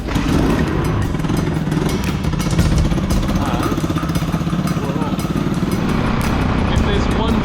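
A motorcycle engine runs loud and close in Vietnam, a rough, rapid chugging that stays steady throughout, with a voice talking over it.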